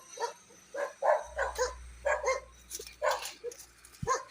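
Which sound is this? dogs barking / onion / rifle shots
dogs barking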